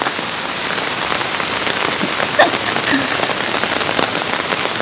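Heavy rain pours steadily onto a surface, a dense continuous patter with occasional louder drops, no voices.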